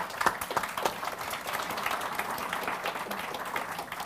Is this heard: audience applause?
yes